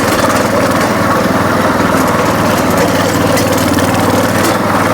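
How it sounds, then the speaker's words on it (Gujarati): A four-wheel mini tractor engine runs steadily and loudly up close, a continuous throbbing mechanical drone with constant vibration and no pauses. "ફોર વ્હીલની અંદર મિત્રો આવું એક મિની ટ્રેક્ટર ખૂબ સરસ મજાની જે છે"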